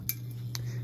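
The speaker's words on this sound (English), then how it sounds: "all that noise is coming from the canopy that's loose" Faint metallic ticking and light clinks from the loose canopy of a 1938 Emerson Electric round-nose one-speed ceiling fan, two brief taps over a steady low hum.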